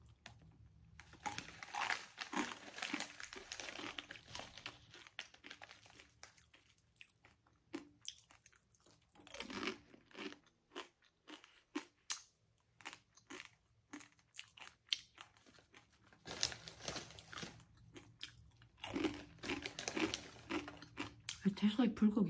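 Close, intimate bursts of dry crunching and chewing as raw, uncooked bulgogi-flavor Korean instant ramen noodles are bitten and eaten, with irregular crisp cracks between quieter pauses.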